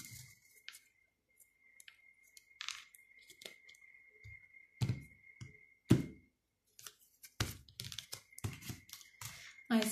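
A few soft shuffling and riffling bursts as a tarot deck is cut, with scattered handling clicks and faint background tones between them.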